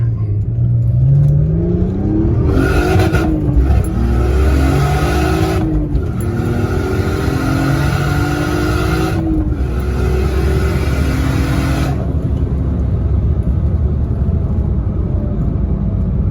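A car on a 10-pound boost spring launches and revs hard, the loud engine rising through several pitch sweeps with gear changes, close and continuous throughout, ending in a steadier drone as it pulls away.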